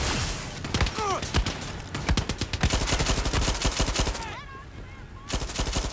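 Gunfire and shotgun blasts in the video game Far Cry 6 crack out as a dense run of loud, sharp shots, some in rapid bursts and some spaced apart, with a voice briefly heard between them.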